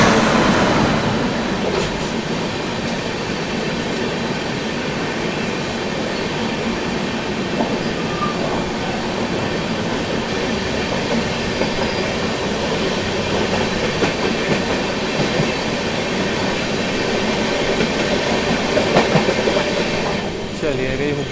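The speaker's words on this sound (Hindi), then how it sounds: "सामने से आ रही है आप लोगों की हज़रत निज़ामुद्दीन से चलकर हुबली की ओर जाने वाली हज़रत निज़ामुद्दीन हुबली सुपरफास्ट एक्सप्रेस" The Hazrat Nizamuddin–Hubli Superfast Express rushes past at speed, a loud, sustained roar of rolling coaches with wheel clatter and rail hiss filling the whole stretch without letup.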